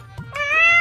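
Short cartoon cat meow in a comedic animated game scene, a single rising then sustained tonal cry, fairly close and clear, lasting under a second.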